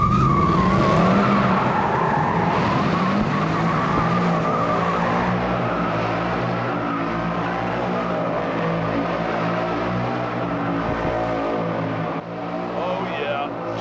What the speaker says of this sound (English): Traction off. I'll just make wheel spin.